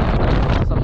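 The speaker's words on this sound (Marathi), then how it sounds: "पाऊस आला, पूर्ण वारा यायला लागला आहे" Strong mountain wind on the Kedarnath pilgrimage route during rain, a loud continuous buffeting roar against the microphone, with a brief dip near the end.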